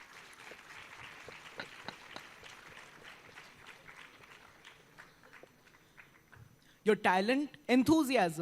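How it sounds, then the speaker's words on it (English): Faint, distant applause crackles through a hall at a school annual day for the students, then fades as a voice begins speaking loudly near the end. "A big round of applause to all the students"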